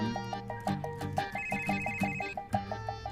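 A telephone rings in a repeating electronic trill pattern, loud and close, with a steady underlying tone and no talking.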